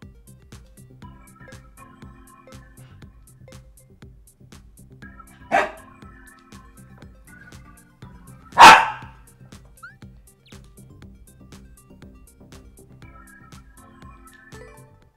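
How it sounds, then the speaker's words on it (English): A dog gives two sharp, loud barks several seconds apart, standing out from a quiet background of soft rhythmic tapping. "She's been very barky lately."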